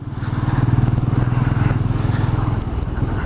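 A 2020 Benelli 400 Imperiale single-cylinder motorcycle engine thuds with a steady, rapid, deep pulsing beat while riding, loud and close, with wind rush over the top.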